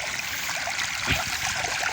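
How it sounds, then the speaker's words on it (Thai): A 4-inch Yamato water pump pushing water through a 200-metre hose to fill a rice paddy, heard as a steady rushing stream of flowing water with a continuous hiss, close and even, with no talking. "ดูตากันน้ำไหล นี่ส่งสายสองร้อยเมตรนะ"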